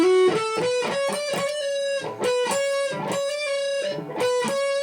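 Distorted electric guitar plays a picked lead line ending in a rapid trill, bright sustained notes in a steady rhythm, close and loud with no talking.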